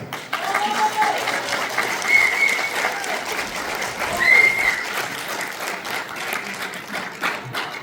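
Audience applause at a concert marking the 50th anniversary of the 11.22 incident involving Zainichi Korean students, welcoming a singer to the stage; steady, full clapping from a seated crowd, sustained throughout with a couple of brief swells.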